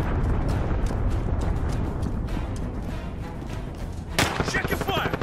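Battlefield combat in Call of Duty Modern Warfare, with a dense, continuous low rumble of gunfire and blasts, then a sharp, loud broadband burst near the end as an allied cruise missile explodes.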